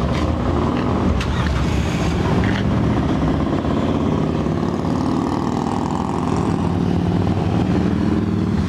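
Motorcycles rumbling past at a waterside cafe in Cowichan Bay, a loud, steady roar of engines with traffic noise filling the whole stretch, no talk audible.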